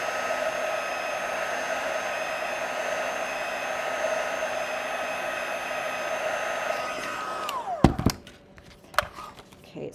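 A hot-air heat tool used on a paper craft card project blows a steady, loud whirring hiss that winds down near the end, followed by a few sharp clicks and taps.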